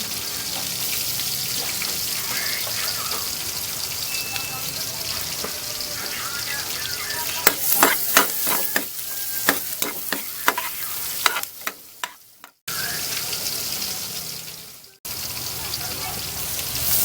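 Garlic frying in butter in a pan, a steady sizzle broken by a run of sharp spatula scrapes and clatter midway, with brief pauses and a voice speaking at times.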